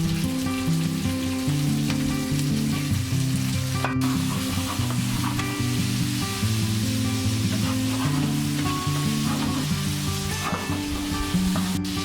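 Potato chips frying for Nepali chips chilli, a steady loud sizzle with stirring and scraping of the pan running throughout, close up with no talking.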